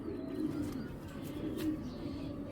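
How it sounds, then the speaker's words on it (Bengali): Racing pigeons, including a hen, coo steadily at close range in a loft, a low continuous throaty murmur with no talking. "দেখেন এটা মাদি কবুতর"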